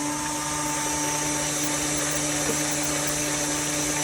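A stand mixer beating eggs and butter in a bowl hums with a constant, even motor whine and a whirring drone, unbroken and fairly loud with no talking.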